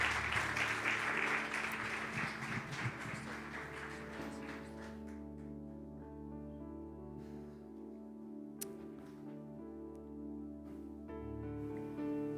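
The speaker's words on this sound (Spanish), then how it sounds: "Aplaudamos al Señor, bendigamos su nombre." A church congregation applauds during a Spanish-language service. The clapping is dense and fairly loud at first, then thins and fades over several seconds as sustained keyboard or organ tones carry on beneath it.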